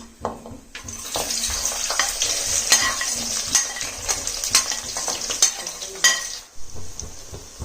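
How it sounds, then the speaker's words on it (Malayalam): Onions and spices sauté in hot oil in a pan for a Kerala-style fish curry, a close sizzle broken by repeated scrapes and clinks of a spoon stirring against the metal. "ഈ എടുത്തു വെച്ചിരിക്കുന്ന നമ്മുടെ സാധനങ്ങളെല്ലാം അതിലേക്ക് ഇട്ട് കൊടുത്ത് ഇതൊന്ന് വഴറ്റിയെടുക്കും"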